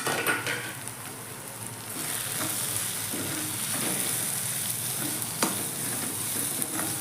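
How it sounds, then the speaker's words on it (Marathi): Pav bhaji masala, garam masala, red chili powder, turmeric and coriander powder are stirred and roasted in a pan for paneer bhurji, giving a close, steady sizzle broken by repeated scraping strokes of a spoon against the pan. "चांगलं मिक्स करून भाजून घ्यायचे"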